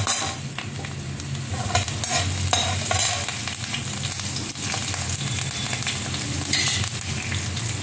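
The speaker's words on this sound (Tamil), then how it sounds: "இதுக்கு கடுகு உளுத்தம் பருப்பு தாளித்து இந்த பச்சை மிளகா போட போகிறேன்." Mustard seeds, urad dal and green chilies fry in hot oil, giving a steady close sizzle with scattered pops and crackles. A utensil stirs and scrapes the pan throughout, and no one speaks.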